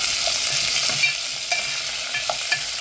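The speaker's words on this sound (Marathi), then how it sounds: "आपण यामध्ये घालणार आहोत कांदा आणि टोमॅटो. हे मी दोन्ही एकत्रच घालते. आता आपल्याला हे छान असं मिक्स करून घ्यायचं आहे." Onion and tomato stirred in a hot pan for dal tadka, a steady sizzle and frying hiss running throughout with light scraping strokes of a spoon at intervals, close and alone.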